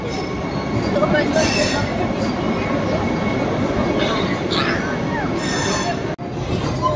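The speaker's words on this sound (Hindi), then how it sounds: "तो ये आ रही है वंदे भारत।" A Vande Bharat Express train arriving at Ayodhya station makes a loud, steady rumble with high wheel squeal and rail clatter close by, filling the whole stretch.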